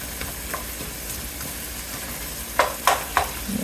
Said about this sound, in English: Saute these for just a few minutes. I have this on a medium-high heat.